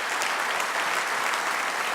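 Brief burst of audience applause at a business conference session on fashion and luxury, many people clapping in a dense, even roar that holds steady for the entire moment.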